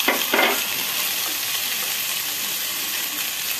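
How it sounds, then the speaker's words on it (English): Raw tomato hits a pot and sautés for a few seconds. A loud burst of sizzle at the start settles into a steady, bright hiss with no talking. "Put in the tomato and saute a while."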